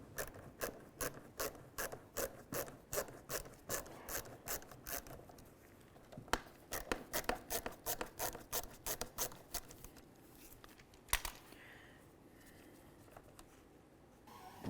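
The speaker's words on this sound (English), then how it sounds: "Turn this counterclockwise, and it's going to unscrew the foam from behind the bumper cover." A square-bit driver turns counterclockwise to unscrew the foam insert behind a 2000-2005 Buick LeSabre bumper cover, giving close, repeated ratcheting clicks in quick bursts that thin out toward the end.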